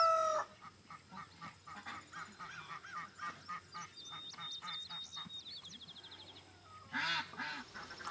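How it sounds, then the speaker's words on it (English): Geese, ducks and chickens honk, quack and cluck in a busy, overlapping flock chorus, with a louder burst of calls near the end, as chickens and older ducks are let out onto pasture. "Let's let the chickens and the older ducks out."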